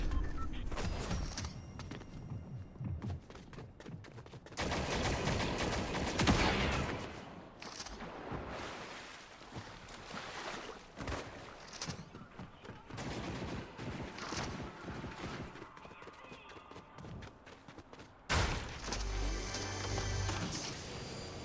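Shotgun fire in the video game Fortnite, with rapid, loud blasts and bursts of gunfire crowding one another in dense, busy combat, alongside other game noise.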